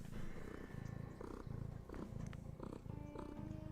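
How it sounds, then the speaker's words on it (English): A domestic cat purrs right against the microphone, a soft steady rumbling pulse repeating in even breaths for several seconds, faint and close with light background noise. "if the mic will pick up her purring"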